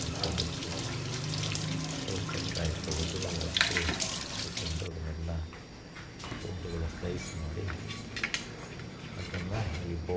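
Tap water runs steadily into a sink while a bowl is washed, a continuous splashing rush with faint clinks, under a speaking voice throughout.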